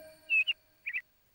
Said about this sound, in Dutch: het geluid van een fluitende vogel vlak bij haar raam